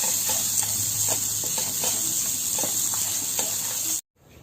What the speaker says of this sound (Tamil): இப்போ இதையும் சேர்த்து அதோட வறுத்துண்டு பொடி பண்ணி எடுத்துக்கணும்.